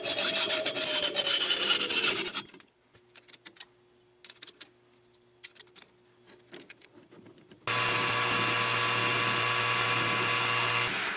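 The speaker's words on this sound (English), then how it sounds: "So I'm just going to hacksaw that off." Narrow solid metal stock is hacksawed off in a machine shop, with rapid rasping strokes at first, a pause filled with scattered scrapes and taps, then a steady loud run of cutting strokes at close range.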